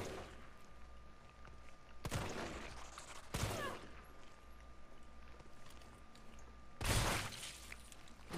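Shotgun blasts in Resident Evil Remake, three sharp, loud single shots spaced a few seconds apart over a low steady background hum.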